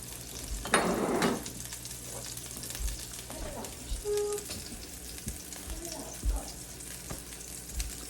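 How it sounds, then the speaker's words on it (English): Tomatoes sizzle as they cook down in a hot pan, a soft steady frying hiss with a louder burst early on as they go in and a few clinks and stirring noises, no talking. "So I'm gonna throw in the tomatoes. I'll put the garlic after. Throw those guys in. They're gonna cook down."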